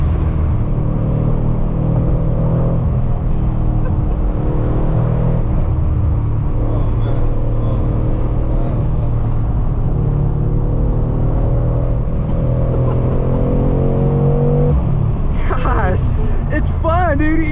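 A 2021 Mercedes-AMG C63 S Coupe with a V8 drones in a low, steady rumble from inside the cabin on a winding road, under continuous conversation, with a brief rising whine near the end.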